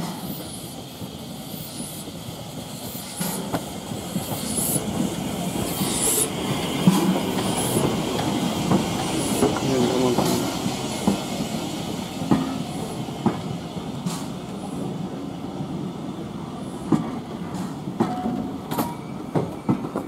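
LMS steam locomotive no. 41313 drawing into Wootton station from Havenstreet, a steady rolling rumble of train and carriages with scattered clanks and wheel clicks throughout, moderately close.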